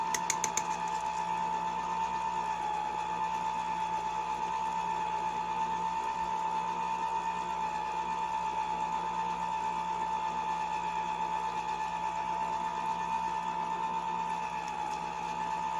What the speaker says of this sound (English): you don't want to mix this on high because then you'll fling all your pumpkin on you. So do it on low until you get it all in there